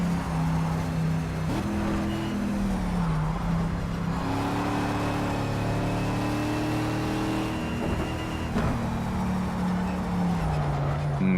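Simulated race car engine in Project Cars at Silverstone, revving steadily with pitch climbing and dropping at several gear changes, loud and continuous throughout with no talk.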